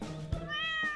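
A kitten meows in the Minecraft video game, one drawn-out rising and falling call heard up close and alone, with a soft bump just before it.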